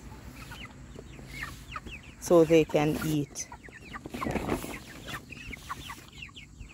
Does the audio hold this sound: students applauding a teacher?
no